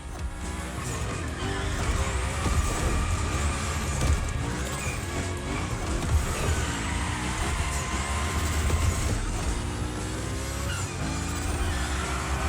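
Hoonigan car in The Crew Motorfest video game sliding through a gymkhana course, engine roaring loud and continuous with tire squeal layered over it.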